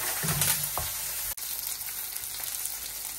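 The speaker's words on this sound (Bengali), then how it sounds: "এখানে দিয়ে দিলাম পেঁয়াজ আর রসুন। এখন এই শাকটা দিয়ে দিই, শাকটা আগে রান্না করি" Onion, garlic and leafy greens fry in a hot pan with a steady, close sizzle. A few stirring knocks come early on, and the sound cuts out for a moment partway through.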